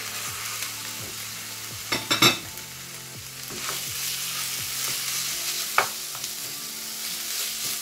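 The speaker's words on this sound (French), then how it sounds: "ensuite je vais rajouter ma viande hachée" Minced meat fries with softened onion in a pan, a steady sizzle running throughout while a utensil stirs and scrapes, giving a few sharper knocks against the metal, close and alone with no voices.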